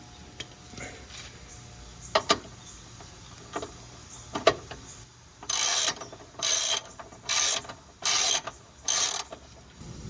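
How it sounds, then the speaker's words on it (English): A ratchet tightens sway bar bolts on a Mazda 3, giving several sharp clicks and then five evenly spaced bursts of rapid ratcheting up close in a quiet garage. "Keep going with the ratchet."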